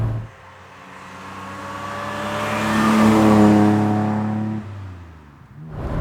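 An Aston Martin DB6 engine drones steadily while driving at moderate speed, its harmonic tone rising and swelling toward the middle before easing off and dropping away near the end, heard alone.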